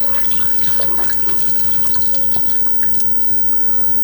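About eight cups of water pouring into a pot, a steady, fairly quiet splashing stream with faint drips throughout, no talking.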